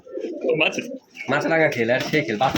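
Rajshahi Giribaz pigeons coo in low, throaty bursts in a loft while a person talks nearby, the birds' calls and the voice overlapping through most of the stretch.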